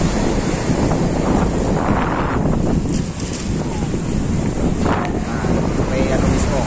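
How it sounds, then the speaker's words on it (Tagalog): Sea waves and wind at the shore in Paracale, Camarines Norte, make a loud, continuous roar with heavy wind buffeting the microphone and surf washing throughout. "Nigdi sa pinakapuro na sa dagat."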